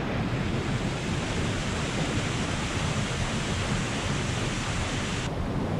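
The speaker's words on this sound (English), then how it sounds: "We're at a waterfall." Loud, steady roar of rushing water at a cold swimming spot with a waterfall, a dense continuous wash of broadband noise that fills the whole stretch without pause and without any voices.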